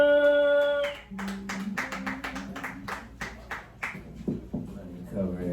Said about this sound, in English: Give an applause for Selwyn